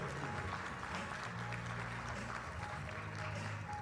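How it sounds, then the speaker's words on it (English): Faint, distant audience applause at a Hall of Fame ceremony for a live band, steady and muffled under a hum of room noise and low tonal sounds. "we have to give our entertainment a big round of applause"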